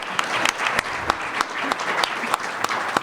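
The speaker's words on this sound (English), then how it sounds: "Can we have a round of applause for all of the" Audience applause at a public event in Denver on decarceration, a steady dense patter of many hands with a few sharper claps standing out, fairly close and continuous throughout.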